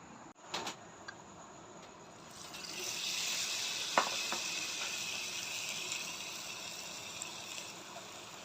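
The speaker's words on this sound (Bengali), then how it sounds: "ভাজা হয়ে গেছে, এভাবে লাল লাল করে ভেজে নেব।" Batter-coated potato chips fry in hot oil, a soft sizzle swelling after a few faint clinks and holding steady and fairly quiet, with one sharp tap partway through and no talking.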